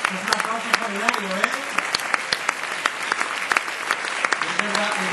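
A hall audience at a national marketing awards presentation claps steadily throughout, a thick continuous patter punctuated by crisp nearby claps, with someone speaking over the applause.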